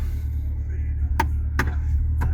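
A Chevy Corvette Stingray C8 drives along with a low steady engine and road rumble inside the cabin, broken by a few brief clicks or taps.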